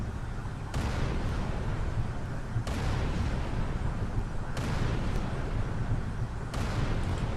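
Heavy gunfire and booming rocket launcher blasts fill a firefight in the Halo 3 ODST video game on Kizingo Boulevard. About four big, sharp blasts ring out over a dense, constant rumble of battle noise.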